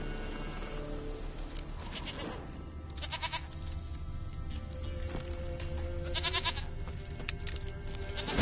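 A goat in a Witcher video game bleats several times in short wavering calls over a steady ambient bed of outdoor game sound.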